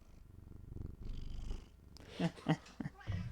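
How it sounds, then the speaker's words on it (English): A soft, steady low purring rumble close by, followed by a few louder thumps and rustles near the end. "If you hear purring or various noises, I have my cat right now"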